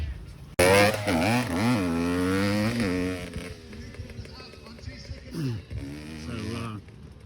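A dirt bike engine running after a carburetor change on race day at an enduro cross-country event, a loud, close, steady drone that rises and falls with revs, with voices talking over it.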